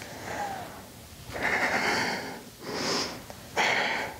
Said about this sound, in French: on va inspirer au sol et expirer en se contractant